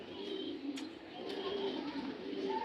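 A red checker racing pigeon coos softly in low, repeated murmurs, with a few faint chirps and clicks around it in a quiet setting.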